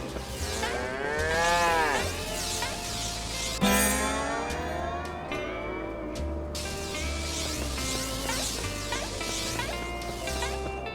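Cattle moo repeatedly in the Shadow Showdown video game, long drawn-out lowing calls that overlap one another over a steady background of game noise, with no voices.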